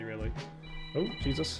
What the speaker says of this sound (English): that's a phone alarm.